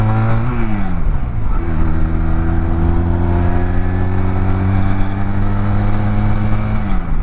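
A Honda Rebel 250 motorcycle accelerates while riding, its engine note climbing through the gears in rising sweeps, loud and close with wind noise.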